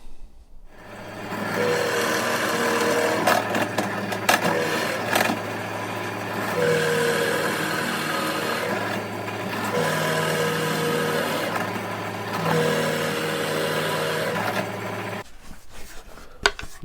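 A pillar drill with a 16mm Forstner bit hollows out a guitar body, with a steady motor whine, loud grinding cutting noise, and repeated plunges that rise and ease over several seconds. The drill runs alone, without talk.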